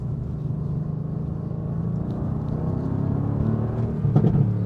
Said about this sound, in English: Let's put it into race mode and listen to it a little bit, because this thing sounds like a monster